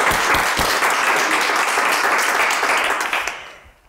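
Dense, steady applause fills the room at an award ceremony, many hands clapping at once before it fades away at the end.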